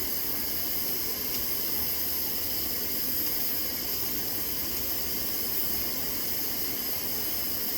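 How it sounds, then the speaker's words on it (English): Steam hisses steadily from a pressure canner during the canning of pinto beans, an unbroken even rush of noise from start to end, with no speech. "And where's all that steam coming up out of there then?"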